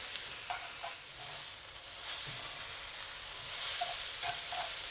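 Yellow noodles stir-frying in a single pan, with a steady soft sizzle and hiss and occasional faint scrapes of stirring, moderately quiet and continuous.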